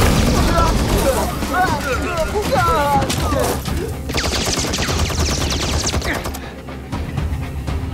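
A dense volley of automatic gunfire rattles loudly and continuously in a Chinese animated series set in a jungle, with booming shots and mechanical clatter under shouted voices, thinning out toward the end.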